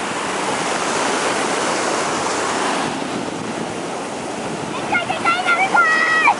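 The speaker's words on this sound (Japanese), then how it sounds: "ここ波が来ると綺麗。" Ocean waves break and wash steadily on a shore, a loud continuous surf roar that eases slightly partway through, with voices talking briefly near the end.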